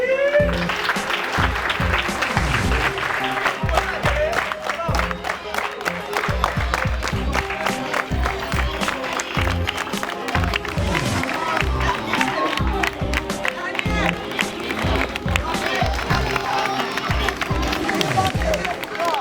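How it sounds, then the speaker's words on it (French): School children at a school challenge event applaud and cheer in a dense, continuous burst of clapping with excited voices throughout, loud and close. "On applaudit!"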